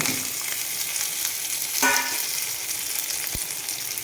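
A constant, fairly loud sizzling hiss of curry leaves frying in hot oil, with a couple of faint clinks partway through.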